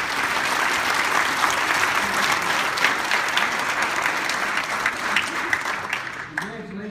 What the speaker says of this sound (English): So once again, give yourself a great round of applause.